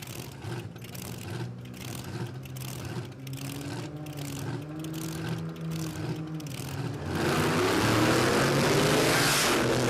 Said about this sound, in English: David versus the Giant here with the 6-cylinder Tirana up against the blown V8 panel van